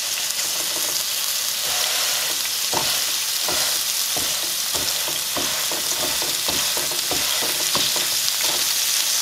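A pastrami burger patty topped with onion fries on a hot griddle, giving a steady, dense sizzle with repeated scraping and pressing clicks from a spatula, close and loud.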